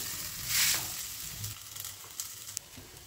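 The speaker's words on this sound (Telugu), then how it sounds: "ప్యాన్ పైన కొంచెం ఆయిల్ వేసేసుకొని ముందుగా ప్రిపేర్ చేసుకున్న రోటీని మెల్లిగా ఇలా రివర్స్లో వేసేసుకొని ఒకసారి ప్రెస్ చేసేసుకోండి" Sorakya roti frying in oil on a hot pan gives a steady close sizzle, with a brief louder hiss near the start and scattered small pops and crackles afterward.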